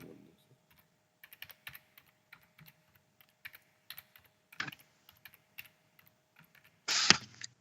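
Computer keyboard typing a question into a chatbot: scattered light key clicks in short bursts across the clip, fairly close and soft, ending in a louder, denser burst of noise.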